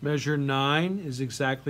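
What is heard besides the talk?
None of the usual background noises is heard.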